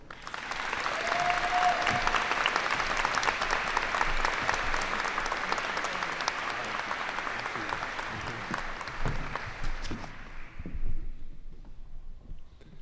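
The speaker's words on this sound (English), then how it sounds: "Please join me in giving a warm round of applause for Professor Roberts." Sustained, even applause from a large audience at a college convocation ceremony honoring a professor, filling about ten seconds before fading out quickly into silence.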